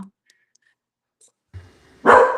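A dog yapping behind a closed door, a quiet pause with faint small noises, then one loud sharp yap at the end.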